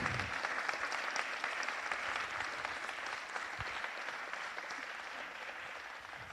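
A round of applause at a Homestead city council meeting, steady crowd clapping that holds at an even level for several seconds with no voices on top.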